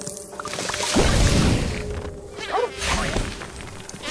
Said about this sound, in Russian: Оса!